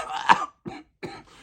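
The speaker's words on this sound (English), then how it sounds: "Which kind of cough is this?" A man coughs and clears his throat up close: one harsh burst followed by two shorter, rougher throat-clearing rasps separated by brief silences.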